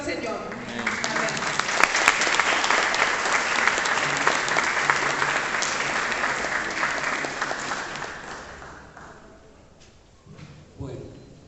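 A church congregation claps together in a long, dense round of applause that swells early, holds steady, then thins and fades toward the end, with a few scattered claps and voices lingering.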